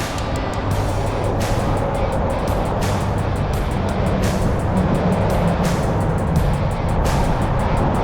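Road traffic roars past close by during a long run along a busy route, a loud continuous wash of tyre and engine noise with wind buffeting.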